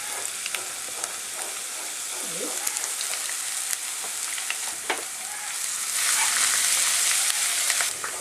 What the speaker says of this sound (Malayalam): ആ എണ്ണയിലേക്ക് നമ്മൾ ഇഞ്ചിയും വെളുത്തുള്ളിയും ചേർക്കാം.